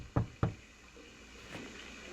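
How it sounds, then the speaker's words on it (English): Two sharp knocks on a front door land about a quarter second apart, close and distinct, followed by faint quiet room tone. "I heard a knock on the front door"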